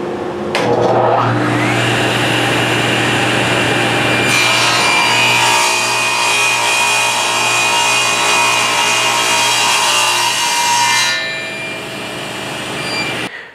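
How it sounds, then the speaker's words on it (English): A table saw with a standard blade cuts a tenon shoulder in wood, a loud continuous whine that spins up, holds steady for about ten seconds under load, then winds down, with no talking. "I will run my first pass to set that shoulder just using my standard blade in the table saw"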